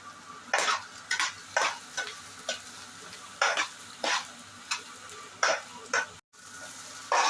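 Onion, carrot and green chilli stir-fried in a hot pan, with repeated bursts of scraping and stirring over a steady sizzle, about a dozen strokes at an uneven pace.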